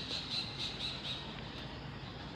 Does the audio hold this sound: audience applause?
no